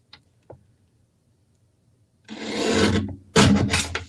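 Card paper trimmed for card making gives a couple of close, scraping cuts, each a rough rasping stroke, after a few small clicks in near silence.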